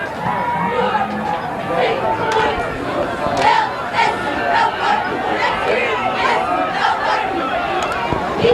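Crowd and cheerleaders cheering at a 1989 high school football game between Norristown and Council Rock, a dense, continuous roar of shouting and chatter with rhythmic chant-like bursts, loud and close throughout.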